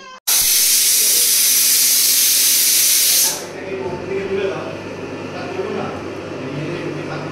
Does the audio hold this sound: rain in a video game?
no